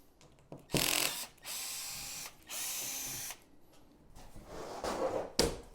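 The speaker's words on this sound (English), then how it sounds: "now we can also take our screws out of this" A power drill backs screws out of plywood on a homemade RC ramp, with two sustained whirring bursts of about a second each, separated by short pauses, then rattling handling noises and a sharp knock, close up and without talking.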